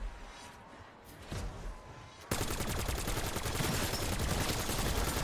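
Rapid automatic gunfire from Black Ops 7 Zombies rings out loud and continuous after a quieter start, a dense rattling burst that fills the rest of the clip.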